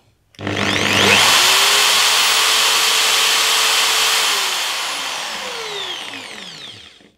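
Doliz BA670 impact drill spinning at full speed: a sharp start into a loud, high whirring whine that holds steady, then winds down with falling pitch as the motor coasts to a stop, close and alone.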